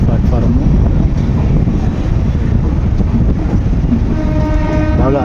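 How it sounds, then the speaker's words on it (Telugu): Kanyakumari Express (12633) rolling into platform 6 at Chengalpattu junction on a cool morning, a loud, close rumble of wheels and carriages with a horn sounding toward the end. "6 గంటల 12 నిమిషాలకి కరెక్ట్గా ప్లాట్ఫారం మీదకి అయితే వచ్చింది బండి."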